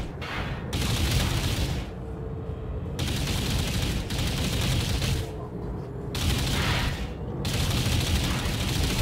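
Rapid bursts of gunfire from the video game Borderlands during a starbase battle, with dense volleys and booms that come in waves, broken by short gaps, under faint talk.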